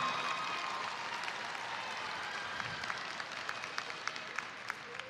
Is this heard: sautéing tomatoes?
no